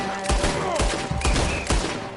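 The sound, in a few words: gunfire in the video game Red Dead Redemption 2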